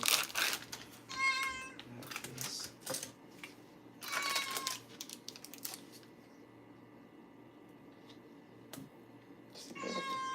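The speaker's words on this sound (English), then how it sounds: "There's a cat here that is making noise." A cat meows repeatedly in a home kitchen during cooking, with several short, close, fairly loud meows spaced apart amid light clatter and quiet room noise.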